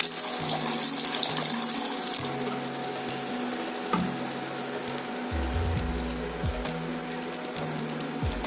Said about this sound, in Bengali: পরিমাণ মতো জল অ্যাড করে দিচ্ছি।